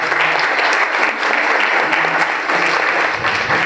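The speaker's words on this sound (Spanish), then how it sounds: "Un aplauso también." Loud, steady audience applause at a corporate event in Mexico, dense clapping running without pause for several seconds, close and full with no speech over it.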